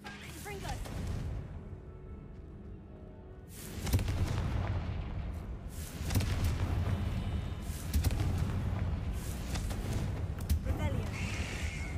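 A Confringo explosive spell goes off in a video game, with heavy booming blasts and rumbling bursts repeating over several seconds; a voice is heard speaking among them.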